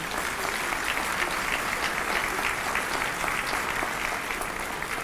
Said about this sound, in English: Please, a round of applause for all of our sponsors today.